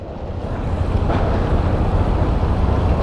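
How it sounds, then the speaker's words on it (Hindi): Water pours over the Sarchu bridge on the Leh–Manali mountain highway, a loud, continuous broadband rush with wind buffeting, close by and unbroken, with no speech. "ऊपर से पानी बह के आ रहा है।"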